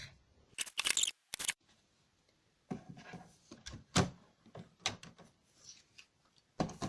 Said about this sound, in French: Donc je vais couper à 25 cm.